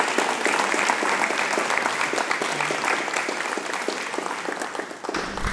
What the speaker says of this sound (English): Please offer another sincere round of applause for Ming Smith.